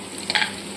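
Ginger sizzles in hot oil in a pan, a constant crackling hiss with a brief brighter burst of spattering partway through as it is stirred.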